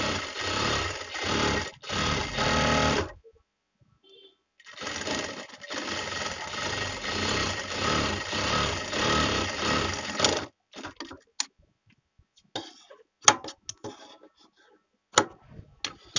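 Sewing machine stitching a bra-cut blouse, running in long steady bursts of rapid mechanical stitching with short pauses, then stopping for scattered clicks and handling knocks near the end.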